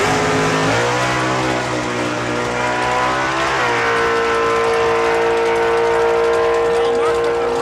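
A 1971 Plymouth Duster drag car runs the quarter mile at a raceway with a loud, sustained engine roar that climbs in pitch through the gears, and an announcer talks over the noise.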